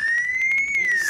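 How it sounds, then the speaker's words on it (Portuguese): A siren sweeps slowly up and then down in a steady wail, loud and close. No voices accompany it. "Volta, sirene."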